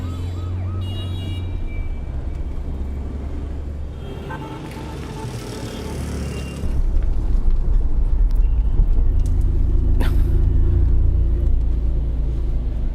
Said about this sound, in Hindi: ट्रैफिक बहुत है, लगता है चेकिंग हो रही है।